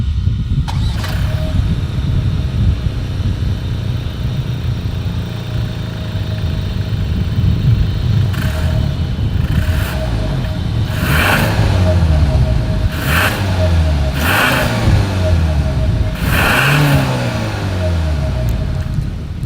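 Hyundai Santa Fe exhaust with a chrome tip, a steady close engine rumble at idle with several brief revs swelling through the middle and end.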